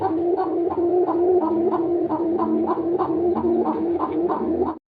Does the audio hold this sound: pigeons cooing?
yes